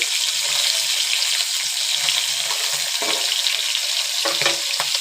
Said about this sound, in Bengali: দেখুন খুব সুন্দরভাবে কিন্তু মাছটা হালকা করে উল্টে দিলাম।